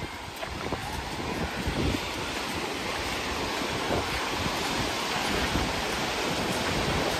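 Sea wind buffets the microphone at Digha beach while waves surge and wash in as a broad, continuous roar, with gusts swelling now and then.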